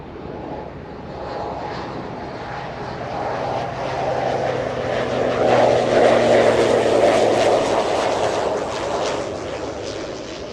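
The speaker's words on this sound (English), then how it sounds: "A little Pilates prop coming in" A small Pilatus propeller plane arriving at Los Angeles International Airport from Merced, California: a steady, loud droning engine roar that slowly swells and then holds for about ten seconds, with no speech.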